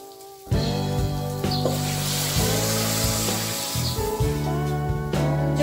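Hot water pours onto roasted rice in a pan for prawn biryani. A sudden loud hissing rush begins after a short quiet, then a steady sizzling spray with some scraping underneath continues.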